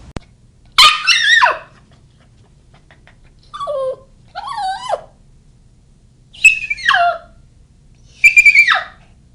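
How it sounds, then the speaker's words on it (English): A puppy named Archie, confined alone, whimpers and yelps in distress, several high-pitched whiny cries repeated every couple of seconds, close and fairly loud, with no talking. "Distress vocalizing, like Archie is doing here, is a typical reaction to isolation or confinement"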